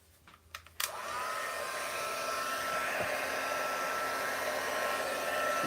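After a few soft clicks and handling sounds, a heat gun switches on and blows a steady, whooshing hot-air hum over wool, holding constant to the end.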